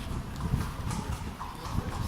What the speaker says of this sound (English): So, Sonia, This is the ancient horse ride of Nabat